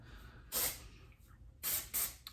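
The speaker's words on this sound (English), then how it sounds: "So I'm gonna give it also a kiss of texture spray." L'Oreal Professionnel Next Day Hair texture spray hisses out in three bursts onto hair extensions, one short spritz, a pause, then two quick sprays, close and fairly soft over faint room noise.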